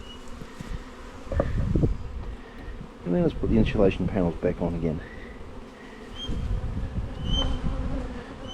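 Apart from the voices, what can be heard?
honey bees buzzing at hive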